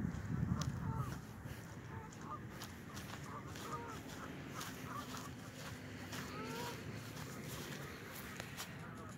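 Faint ducks quack and honk intermittently in the distance over a soft outdoor background at a park in Grand Island, Nebraska.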